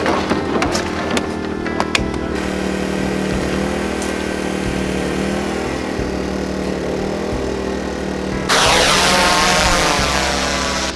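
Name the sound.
drone flying over a farm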